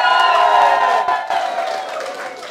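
Guests at a wedding reception cheer loudly and whoop together, a dense, close crowd roar that tapers slightly toward the end with scattered clapping mixed in.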